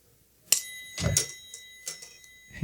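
Several bright metallic rings of a struck triangle, spaced unevenly, each chime ringing briefly before the next; no speech.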